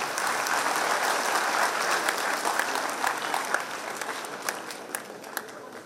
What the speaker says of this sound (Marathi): सर्वांनी टाळ्या जोरदार वाजवाव्यात.